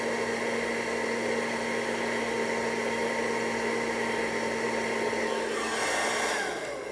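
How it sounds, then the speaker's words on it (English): A handheld blow dryer running on low heat and low speed gives a steady, close whoosh of airflow with a faint motor hum, holding constant before swelling slightly near the end. "Trusty blow dryer. Low heat, low speed. Turn it on with the nozzle."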